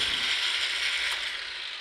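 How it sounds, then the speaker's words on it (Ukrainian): A Bosch GAS 25 L SFC vacuum cleaner starts along with an angle grinder: a steady, loud mechanical whir fills the whole moment, constant and close with no voices. "Стартує легенько пилосос"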